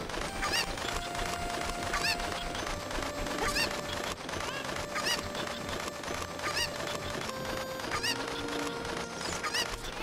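A carried chicken in The Legend of Zelda: Ocarina of Time gives repeated squawking honks and clucks at a steady pace over constant game background noise.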